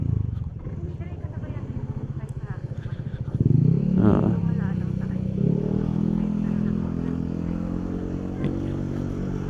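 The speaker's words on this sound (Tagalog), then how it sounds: "masusubukan natin tong motor natin ngayon sa Akyatan tsaka sa Korbahan" A Fortress 160 motorcycle ridden along winding uphill Baguio roads gives a steady engine drone that swells louder partway through and stays prominent beneath people talking.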